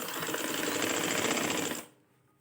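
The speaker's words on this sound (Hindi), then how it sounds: "अब मैंने ये गले के साथ साथ सिलाई लगानी शुरू करनी है।" A sewing machine stitching along a shirt neckline runs in a fast, steady close whir, then stops abruptly near the end, leaving near silence.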